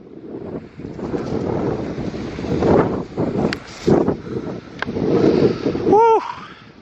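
Strong gusty wind buffets the microphone outside an old cement-built abandoned house, a loud continuous roar with surging gusts and a few faint knocks.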